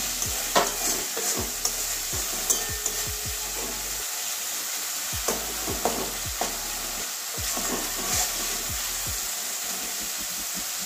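Boiled jackfruit and potato stirred into oily, well-fried masala for a Bengali jackfruit curry: continuous close sizzling with repeated rhythmic spatula scrapes and taps against the pan, no talking.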